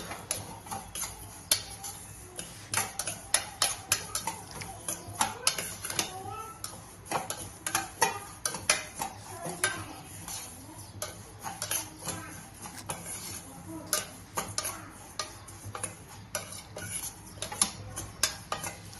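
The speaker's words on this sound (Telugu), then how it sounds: "కలుపుతూనే ఉండాలి సేమియా గిన్నెలు వేసినప్పటి నుంచి కలుపుతూనే ఉండాలి లేకుంటే మాడిపోతాయి" Vermicelli roasting dry in a pan for payasam, stirred continuously: repeated close clicks and scrapes of a spoon against the metal pan in an uneven rhythm, with a faint sizzle underneath.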